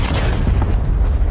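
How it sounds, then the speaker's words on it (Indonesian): A plane blowing up in a film, heard as a loud, sustained low explosion rumble that fills the whole moment with dense, heavy roar and no voices. "salah satu dari mereka tak sengaja membawa bom ke dalam pesawat sehingga pesawat mereka meledak"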